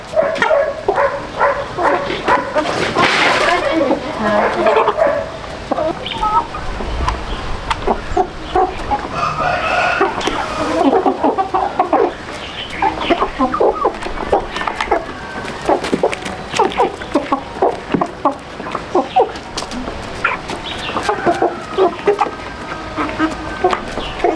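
Chickens clucking and squawking in a noisy rural yard, busy and close, with a dog barking among them and voices in the background throughout.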